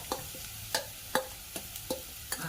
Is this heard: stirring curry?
yes